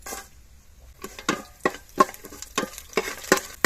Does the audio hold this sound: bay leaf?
yes